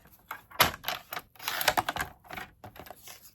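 Stampin' Up! cardstock being cut to 2 3/4 by 4 inches for a stepped-up card, a series of sharp crisp snips and slicing strokes, close and fairly loud, with short pauses between cuts and no talking.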